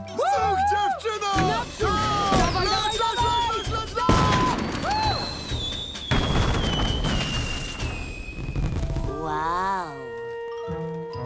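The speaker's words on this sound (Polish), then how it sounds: "odkąd to w pokazie mamy fajerwerki?" Cartoon fireworks burst at a show, a run of booms, crackles and sparkly tinkles over a dense, busy mix with voices and music, fairly loud and continuous, ending in rising whistle-like tones.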